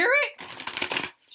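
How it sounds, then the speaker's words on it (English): Tarot cards being shuffled by hand, a quick papery riffle and flutter close up, following a brief voice at the start. "I'm just shuffling."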